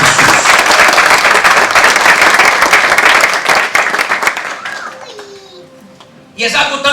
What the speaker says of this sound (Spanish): Vamos aplaudir ao Senhor em Cristo Jesus